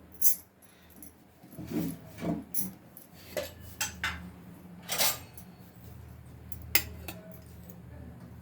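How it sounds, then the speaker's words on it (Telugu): A metal pan being set on a stove while cooking coconut burfi, a series of faint metallic clinks, scrapes and knocks scattered over several seconds, close and quiet with no talk. "ఇప్పుడు ఫస్ట్గా స్టవ్ మీద ప్యాన్ పెట్టుకొని"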